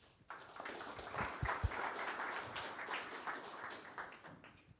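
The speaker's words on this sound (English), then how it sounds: "Let's give one more time applause." Modest audience applause following a seminar presentation, a light, uneven spread of claps heard from a distance, with a few sharper knocks or taps near the start and a gradual fade.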